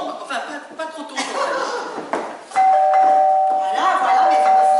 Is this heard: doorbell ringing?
yes